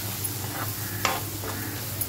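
Chili powder and coriander powder frying briefly in a pan for a chicken dish, a soft low sizzle with a few light stirring scrapes.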